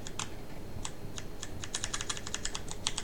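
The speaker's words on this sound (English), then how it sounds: "I'm moving it with the Ultimate Hacking keyboard" Keys on an Ultimate Hacking Keyboard clatter in quick, uneven bursts of crisp clicks, close and fairly loud, with no voices over them.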